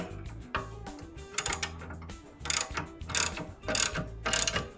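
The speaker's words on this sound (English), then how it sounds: "just snugging them up. This is a big ratchet" A big ratchet snugs up bolts while a Mojo Moto Hauler motorcycle jack hitch hauler is assembled, giving bursts of fast, close metallic clicking with short pauses between strokes and no talking.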